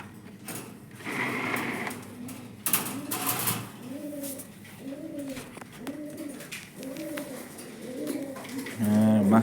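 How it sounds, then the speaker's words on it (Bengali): Fancy pigeons in a loft give a steady series of soft, rolling coos at close range, repeating every second or so over a faint mechanical hum and scattered rustling and flapping. "ফেন্সি কবুতর"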